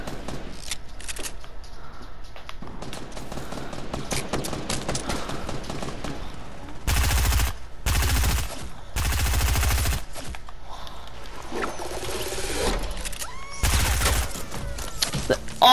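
Gunfire in the Fortnite battle royale, with rapid bursts of shots and several loud, dense sustained volleys partway through, broken by quieter stretches.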